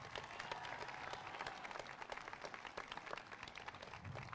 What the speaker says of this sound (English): Graduates, please give them a round of applause.